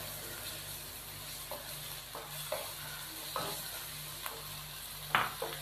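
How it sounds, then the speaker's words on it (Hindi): Chopped peeled tomatoes and ginger garlic paste fry in a pan for a dal mash dish, giving a soft steady sizzle with occasional scraping stir strokes, close and fairly quiet. "टमाटर और अदरक लहसुन का पेस्ट शामिल करने के बाद हम इसको 2 से 3 मिनट भून लेंगे"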